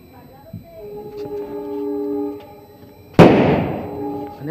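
Diwali firecrackers and a hand-launched rocket bomb: a faint crackle and whistle build under talk, then one loud sharp close burst decays into crackling, with a person speaking over it.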